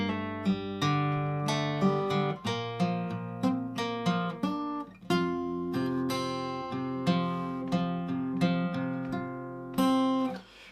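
An electric guitar plays the verse riff of a song, a sequence of distinct, rhythmic picked notes and short chords heard clearly and alone, with no talking.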